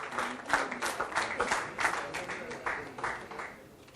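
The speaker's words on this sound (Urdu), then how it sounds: "زوردار تالیوں سے اس نوجوان کے لیے جو بہت بڑی پوسٹ پر ہے" An audience claps enthusiastically at a mushaira felicitation ceremony, a dense, rippling round of applause that holds steady and then begins to fade, with some voices mixed in.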